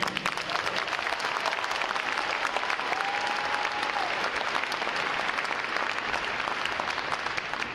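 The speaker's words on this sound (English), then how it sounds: "Another round of applause for their outstanding performance this morning." Crowd at a U.S. Navy boot camp graduation ceremony at Great Lakes applauds a band's performance, a continuous, even roar of clapping held at steady volume with a faint tone briefly audible beneath.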